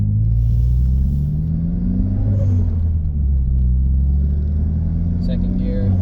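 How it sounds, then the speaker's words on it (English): A manual car pulls away in first gear, its engine rising steadily in pitch as it accelerates, with a low, continuous rumble close by. "So stopping, didn't have to touch the shifter because I'm still taking off in first."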